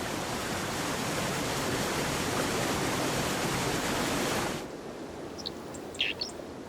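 Dense, steady rushing of a waterfall fills most of the clip, then drops to a quieter water hiss with a few brief high bird chirps.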